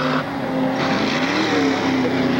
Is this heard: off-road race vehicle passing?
yes